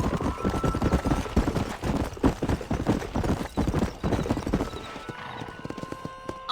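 Hooves clip-clop in a fast, steady gallop from a horse in Red Dead Redemption, with a brief whinny, loud and close throughout before thinning out near the end.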